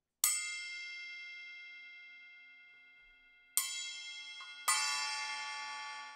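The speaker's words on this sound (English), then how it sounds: "my collection is an 8-inch Istanbul Got Bell" An 8-inch Istanbul bell cymbal is struck three times, ringing out with long, bright, metallic sustain and odd clashing overtones, each hit decaying slowly before the next.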